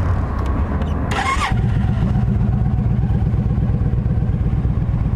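A used 2007 Yamaha V Star 1300 motorcycle with about 25,000 miles cranks briefly with a whirring starter, then fires into a steady, close, low thumping idle that runs alone to the end.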